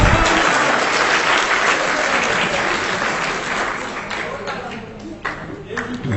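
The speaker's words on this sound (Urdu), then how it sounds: "ان کی کمپیئرنگ کے لیے تالیاں ذرا." An audience at a stage event applauds loudly and continuously, the clapping thinning slightly toward the end with a few scattered claps trailing off.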